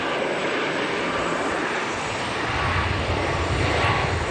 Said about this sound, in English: I believe this to be Southwest Flight 16